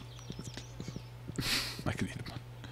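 Hooves clip-clop in an even walking rhythm as a horse moves in Stardew Valley, a light repeated patter with a brief whooshing swell midway and a person talking over it.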